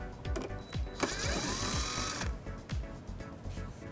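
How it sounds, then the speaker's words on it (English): Power tool with an 8mm socket backing a screw out of the bumper fascia on a 2016 BMW X5 during a trailer hitch installation, a close, steady whirring run with short ratcheting bursts and clicks. "it exposes this screw that we'll remove using an 8mm socket"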